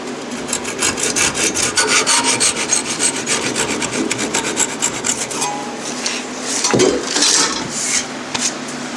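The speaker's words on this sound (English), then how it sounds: "take our flush cut saw" Rapid back-and-forth rasping of a small flush cut saw cutting a 3/8 oak dowel, steady and close, with a brief thump near the end.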